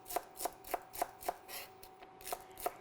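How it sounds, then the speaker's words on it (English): A knife chops halved celery on a cutting board in about nine sharp, evenly spaced strokes, each one a crisp close tap with a short gap between, with no voices over it. "So I've just cut the celery down the middle, and it's just easy to chop these up together."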